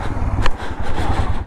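A motorcycle is ridden onto a large ferry, its engine close and throbbing in short uneven pulses, with a brief scraping knock partway through and no talking.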